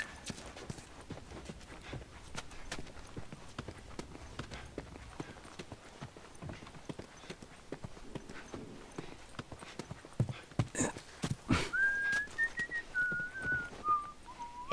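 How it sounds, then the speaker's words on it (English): Ellie whistling a short melody in the video game The Last of Us Remastered, heard late and faintly over steady horse hoof clip-clop, with a few sharp knocks just before. "you're freaking me out with that whistling."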